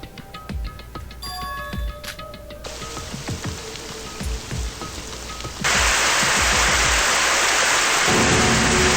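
Fire sprinklers spraying water indoors in the video game Super Danganronpa Another 2, heard as a steady loud hiss of falling water that swells abruptly partway through, with scattered thumps and game sounds earlier.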